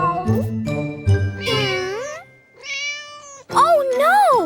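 A cartoon mother cat meows in a series of drawn-out, bending cries. A light jingle and chime sound beneath them, and voices talk between the meows.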